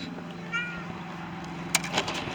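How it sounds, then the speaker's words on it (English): A cat near a 1988 Ford F150 during a radio install gives a single short, soft meow, followed by a few light knocks and clatters against a steady background hum. "Do you see this cat?"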